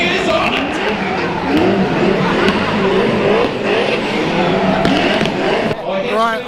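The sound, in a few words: race car warming up its tyres, skidding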